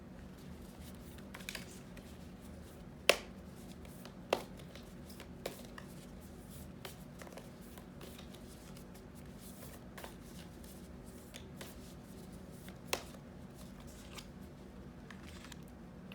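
A deck of affirmation cards being shuffled, with soft papery riffling and a few sharper snaps and taps scattered through, quiet and close with no voices.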